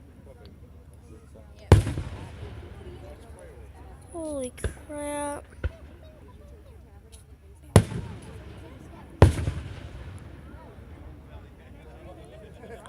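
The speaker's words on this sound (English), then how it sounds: "Oh, these fireworks are hurting my ears." Fourth of July fireworks burst in loud, sharp booms at irregular intervals, with whistling rockets rising between blasts and crackling tails trailing off; people talk and exclaim throughout.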